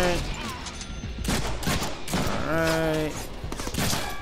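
Rapid gunfire bursts from the Deadpool video game, repeated loud cracks and volleys over busy action noise, with a brief tonal voice or effect mid-way and no clear talking.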